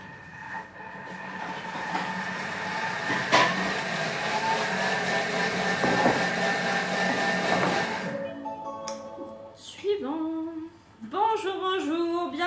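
A Thermomix food processor runs at speed 5 with a loud, steady whirring drone that cuts off after about eight seconds and is followed by a few rattling knocks.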